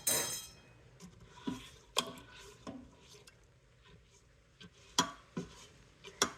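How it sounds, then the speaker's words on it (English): Orzo and pork stock being stirred in an Instant Pot, heard as sparse clinks and light scraping of a utensil against the metal pot, with soft wet squishes between quiet gaps. "And then I'll give it just a little bit of a mix."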